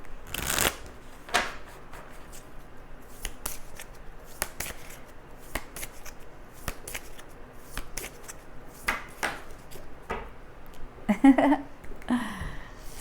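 Tarot cards handled and turned over during a reading, giving a series of soft crisp flicks, slides and taps at irregular intervals, close and fairly quiet, with a few brighter clicks near the end.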